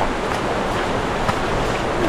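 A strong river current at a Daraitan, Tanay, Rizal campsite fills the background, churning continuously with broadband noise, and a voice speaks faintly under it.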